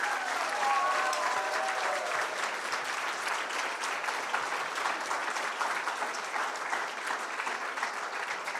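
A Christmas special audience applauds its worship team with sustained, even clapping from a crowd, moderately loud and steady throughout, a brief tonal voice-like sound surfacing near the start.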